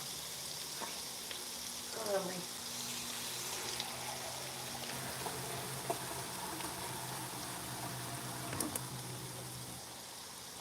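About two and a half cups of water go into a hot cooking pot, producing a steady sizzle and bubbling hiss with a few small clinks. It is moderately quiet and there is no talk.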